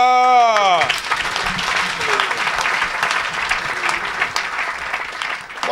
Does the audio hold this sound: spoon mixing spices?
no